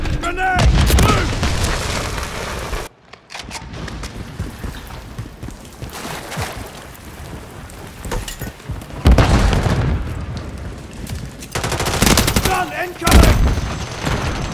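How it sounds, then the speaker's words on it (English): Loud gunfire and booming blasts fill a video game firefight, with bursts of automatic fire and heavy explosions coming in waves and short quiet gaps between them, while a voice calls out over the noise. "Grenade! Move!"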